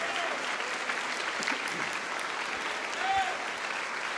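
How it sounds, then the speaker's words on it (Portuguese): Church congregation applauding, a steady wash of clapping from many hands throughout, moderately distant, with a voice faintly audible beneath it. "Vamos aplaudir mais ao nome de Jesus."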